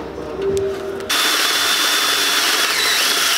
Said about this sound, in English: now I'm gonna drill out the other ones